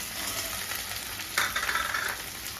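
Potato slices with asafoetida and turmeric frying in hot oil: a steady, close sizzling hiss with a louder crackling burst partway through as the pan is stirred, with no talking.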